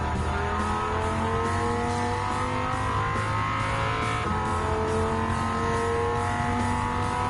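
A Dodge Viper GTS race car in Gran Turismo 7 at WeatherTech Raceway Laguna Seca roars under steady throttle, its engine note climbing through a gear change, with other cars' engines layered around it.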